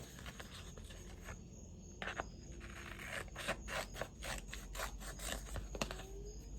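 Quiet scissors cut around excess vinyl for a home decor sign, with soft scraping and snipping strokes up close over a low background hum.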